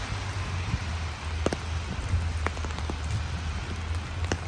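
Rain falls on a city street, a steady patter with sharp drips striking nearby, probably on an umbrella, over a low traffic hum, with no speech.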